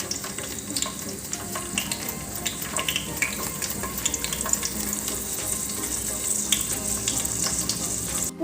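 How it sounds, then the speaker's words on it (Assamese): Cashews and raisins frying in ghee for pulao give a dense, even crackling sizzle that holds steady throughout, close and alone with no voices. "পোলাও কাৰণে ইয়াৰ কাজু খিচমিচখিনি অলপ ঘিত ভাজি ল'লোঁ মই"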